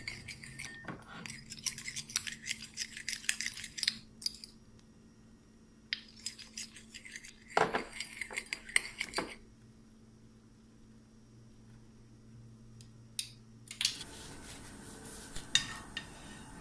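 Chicken tossed with soy sauce and black pepper in a bowl makes intermittent clinks, scrapes and wet stirring sounds, some bursts louder than others, with quiet stretches of kitchen room tone between them.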